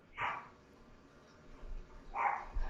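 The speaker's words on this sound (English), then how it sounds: "Oh no, the dogs are barking." Dogs bark faintly at a distance, two short separate yaps about two seconds apart over quiet low background noise.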